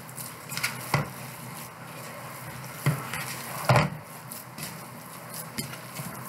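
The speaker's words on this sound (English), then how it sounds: "You want to mix it in a dish that's big enough to mix everything freely with all your ingredients." Hands squish and stir raw meatloaf mixture in a large mixing dish, giving soft wet squelches with a few sharper clinks against the bowl, close and moderately quiet, no talking.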